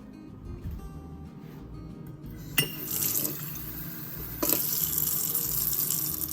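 Water is poured into a pot of cooking apple jam, a steady splashing stream starting suddenly partway through and strengthening again near the end, close and fairly loud with no talk.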